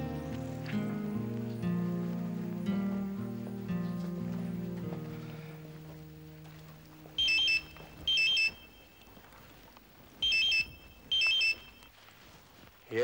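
A telephone rings in a Hindi TV drama scene, two pairs of shrill electronic ring bursts sounding after background music fades.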